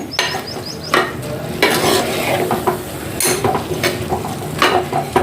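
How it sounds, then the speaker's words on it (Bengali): A ladle stirs cabbage and green peas in a wok for a rural Bengal-style dish. Loud, close scraping and metallic clanks repeat irregularly over a constant sizzle, with no talking. "এবার একটু হাতা দিয়ে নেড়ে নেব, তো হাতা দিয়ে নেড়ে নিলে সুবিধা হয়, তলা থেকে একদম উঠে যাবে।"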